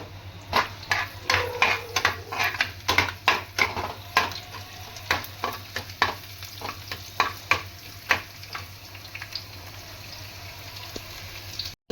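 Garlic frying in hot oil for a Punjabi kadhi tadka, with a steady sizzle under repeated rhythmic scrapes and clicks of a spoon stirring in the pan, close and continuous.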